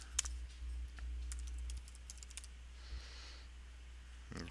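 Quiet tapping of keys on a computer keyboard while a new password is typed, a sparse run of soft clicks over a low steady hum.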